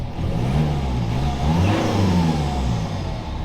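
A BMW E90 320d diesel engine fitted with a Ramair induction kit revs up, a loud, close, rising roar with the pitch climbing and falling across a few seconds, no voices.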